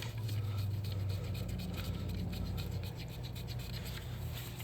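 Bolts being threaded in by hand on a 2013 Dodge Dart 1.4L engine during an engine and transmission swap, a close, continuous rasping and rubbing of metal with faint scratches over a steady low shop rumble.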